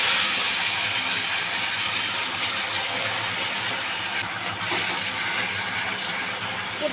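Pointed gourd paste fries with nigella seeds in hot oil, giving a steady, loud, broadband sizzle that holds evenly throughout, with a brief louder flare near the end.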